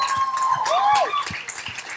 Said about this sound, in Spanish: Un aplauso a Viral Plus.